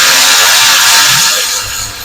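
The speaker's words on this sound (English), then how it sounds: "we could use the 1/4 inch cordless up top here because it clears" A 1/4 inch cordless ratchet spins loudly up close on engine bolts of a 2014 Toyota Highlander 3.5 V6, a harsh whirring buzz that fades slightly at the end.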